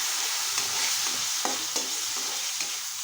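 Shrimp and yardlong beans fry in a pan with a steady close sizzle, while a utensil stirs and scrapes a few times against the pan.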